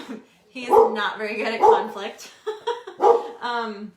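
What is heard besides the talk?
dog barking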